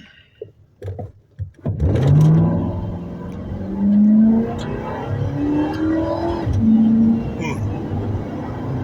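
A 2007 Ford Crown Victoria Police Interceptor accelerates from a dead stop on level ground, the engine note rising loudly through gear changes after a few soft clicks and bumps at the start.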